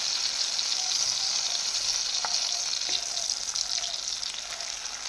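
Ginger paste sizzles in a pan with fried tomato and onion for a pabda fish curry, a constant close frying hiss broken by a few small pops and stirring clicks.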